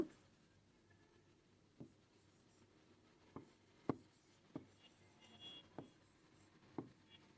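Pen or marker writing out an informal physics formula for ideal gas kinetics, a series of sparse, sharp taps and short strokes spaced over quiet room noise, fairly close, no voices.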